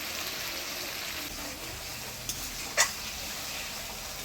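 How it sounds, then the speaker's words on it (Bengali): A masala of spices sizzles gently in a pan as it is stir-fried for a potato and pointed gourd curry with homemade paneer, a faint, steady hiss broken by two sharp clicks of a utensil near the end. "মশলা থেকে তেল ছেড়ে দিতে মশলাটা ভালোভাবে কষিয়ে নিলাম"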